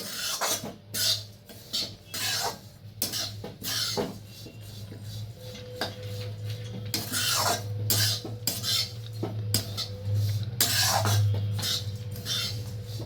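Oats being stirred in a pan as they dry-roast, heard as repeated scraping and clinking strokes of a spoon against the pan at a steady, close rhythm.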